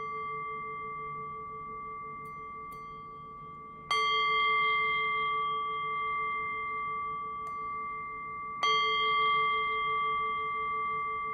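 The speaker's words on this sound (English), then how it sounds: "I'll cue that by ringing the bell 3 times." A meditation bell rings out in a quiet room with clear, sustained metallic tones, struck three times in total and left to fade slowly between strikes.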